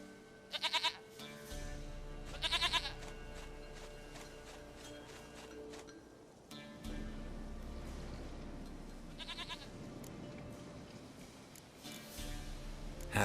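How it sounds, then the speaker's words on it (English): Goats bleat in The Witcher 3 video game, several loud quavering calls in short bursts over a steady ambient game backdrop with low hum. "Goat of mine, dearest, sweetest goat."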